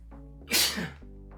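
A single sharp human sneeze bursts out close to the microphone, brief and loud against a low steady background hum.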